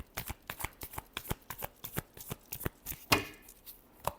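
Tarot cards shuffled by hand, a rapid series of crisp riffling slaps in steady rhythm, close and clear, with one sharper snap near the end and no talking.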